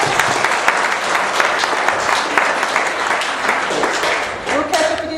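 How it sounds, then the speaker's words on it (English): Audience applause at a roundtable discussion event, sustained dense clapping close and loud, easing near the end as a voice begins to speak. "let's give everybody a round of applause for Jim and Paul"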